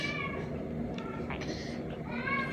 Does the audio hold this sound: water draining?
no